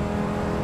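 Dodge Viper RT/10 '95 engine in Assetto Corsa, a loud, close, steady rev as the gear changes, with a sustained droning growl and no speech.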